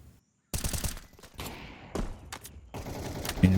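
Rapid M4 rifle bursts in a Counter-Strike match, loud close gunfire in several clustered volleys with short gaps between them, no talk over it.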